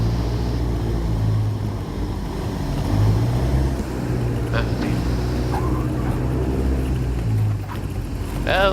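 A Cessna light aircraft drones steadily through a rough landing, the engine and wind noise loud and close, with a few faint bumps and a brief chirp rising over the constant rumble.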